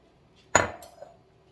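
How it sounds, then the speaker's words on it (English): A utensil scrapes cooked chicken pieces out of a dish into rice in a home kitchen, making one short clinking scrape followed by a lighter second scrape. "Gonna scrape out the little pieces of meat."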